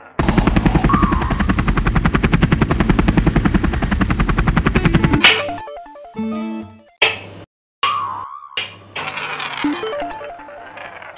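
Rapid, loud helicopter rotor chopping pulses steadily for about five seconds, then gives way to broken, uneven bursts of sound.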